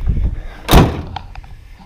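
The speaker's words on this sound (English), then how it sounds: "you can snap it and lock it in place" A strap on a pickup bed ladder snaps closed and locks with a single sharp thud near the middle, followed by a few faint clicks.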